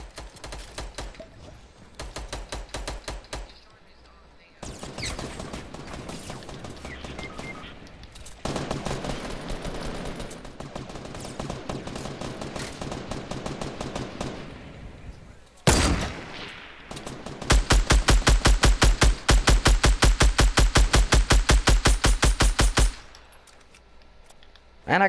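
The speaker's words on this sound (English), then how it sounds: "Who's shooting grenade launchers and stuff?" Fortnite video game combat with grenade launchers and other guns, rapid bursts of automatic fire and repeated shots in long dense volleys broken by short pauses, loud and close, with a sharp blast partway through.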